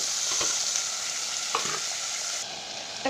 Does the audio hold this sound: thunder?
no